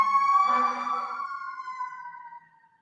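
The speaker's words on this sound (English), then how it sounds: "I'm sure you heard the sirens." A fire department siren wails from across the street, loud at first, then its steady tone slides slightly downward and fades away over a few seconds with no talking.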